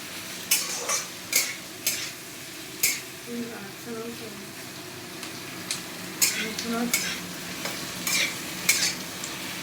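Onion and green chilies fry in a pan with a steady sizzle, broken by repeated close scraping and clinking strokes of a spatula stirring them, some louder than others.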